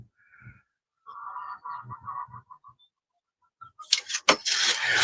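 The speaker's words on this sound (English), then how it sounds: "Can you hear the chickens?" Honking, clucking poultry calls come in short rhythmic bursts, followed by a louder flurry of squawks and flapping noise toward the end.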